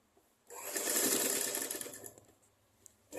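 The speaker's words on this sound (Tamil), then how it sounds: "முன்பக்கத்துக்கு முன்பக்கம் வச்சு இப்படி வச்சு அடிங்க." A sewing machine stitches a bodice to the skirt of a child's pavadai dress in one close, steady burst of fast mechanical whirring, lasting about a second and a half before it stops.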